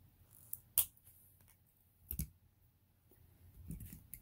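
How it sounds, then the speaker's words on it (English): Wire cutters snip jewelry wire during wire-wrapping work, giving a few quiet, sharp clicks spaced over several seconds in a hushed room. "so my wire cutters, I'm just going to cut off a little bit"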